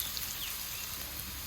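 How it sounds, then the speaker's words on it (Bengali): Green chillies fry in hot oil with a steady, close sizzle that holds evenly throughout, no voices over it. "এটা ভেজে নিই একটু।"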